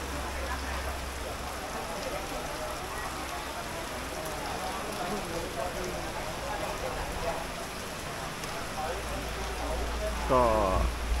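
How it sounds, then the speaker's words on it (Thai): Steady afternoon rain falls on surfaces in a continuous dense patter, with a low rumble at the start and end and a brief scraping sound near the close; no talking. "ฝนตกตอนนี้"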